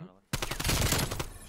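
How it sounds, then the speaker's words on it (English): Burst of automatic gunfire in the video game Call of Duty Cold War, a loud rapid string of shots starting abruptly and running to the end. "Oh, shaky shots out of Jake."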